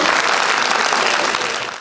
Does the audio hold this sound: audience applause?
yes